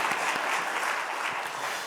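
Church congregation applauds the education department during a Sunday worship service, a brief burst of dense clapping from many hands, steady and close.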